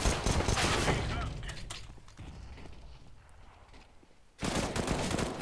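Gunfire in Counter-Strike: Global Offensive on the Mirage map comes as dense rapid bursts, loud at the start, then fading into a quieter stretch before another sharp loud volley near the end.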